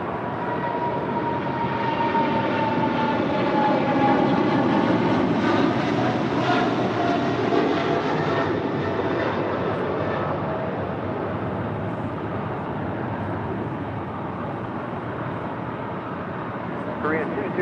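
A Korean Air heavy jet airliner departs, its broad roaring engine noise steady and loud, swelling slightly then easing as it climbs away, while radio talk and voices run underneath.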